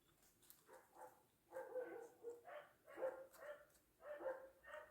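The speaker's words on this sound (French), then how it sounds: "Les chiens nous accompagnent, vous les entendez." Several dogs bark in short, repeated bursts at a moderate distance, a steady series of yips and barks with brief gaps, fairly faint and alone without talk.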